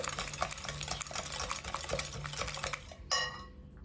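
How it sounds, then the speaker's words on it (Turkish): Whisking sugar and eggs in a bowl for a baked soufflé: steady, busy clinking and scraping of a whisk against the bowl, close and fairly quiet, with a sharper clink near the end. "Şeker ve yumurtayı iyice çırpmıştık. Yine son bir kere çırpıyorum."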